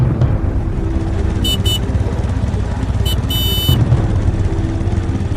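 A motorcycle keeps pace beside a truck on a night road, honking in short beeps and then one longer blast over the steady low rumble of engines.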